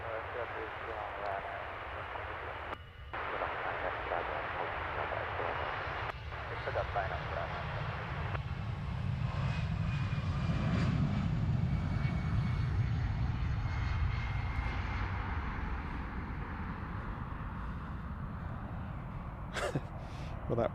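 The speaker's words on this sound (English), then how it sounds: "that was a typically early rotation for the EasyJet Airbus" An EasyJet Airbus jet takes off at London Stansted, its engines a steady broad roar that swells toward the middle and stays loud throughout, heard from a spotting position with the rumble filling the whole stretch.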